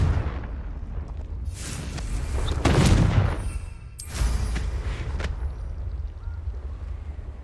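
A Confringo explosion spell going off in Hogwarts Legacy, with a heavy booming blast followed by a second crackling burst and rumbling debris, loud and close against game ambience.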